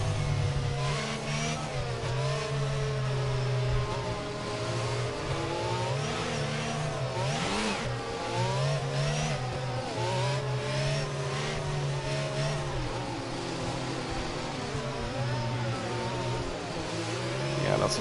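Race cars in an F1 racing video game set in Austria hum and whine steadily as they weave to warm their tyres, engine pitch rising and falling throughout, with commentators talking over the continuous drone.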